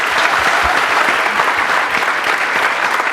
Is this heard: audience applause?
yes